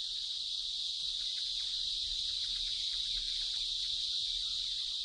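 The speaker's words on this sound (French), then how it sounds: "c'est la cigale qui a le chant nuptial le plus bruyant" A loud, continuous high-pitched buzzing drone of cicadas in India giving their mating call, steady and unbroken, with faint background rustle underneath.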